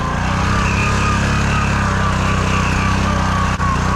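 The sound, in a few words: Honda Fourtrax 300 6x6 ATV engine climbing a hill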